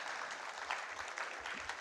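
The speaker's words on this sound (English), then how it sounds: "Give them a round of applause" Brief burst of audience applause at a university industry conference morning session, dense clapping at a steady level with a few sharper claps standing out.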